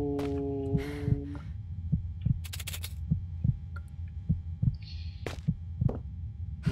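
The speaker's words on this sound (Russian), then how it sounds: "Ну, судя по сердцебиению" A slow, steady heartbeat thumps throughout the Penumbra horror game, low and regular over a droning hum, with brief synth tones and clicks scattered on top.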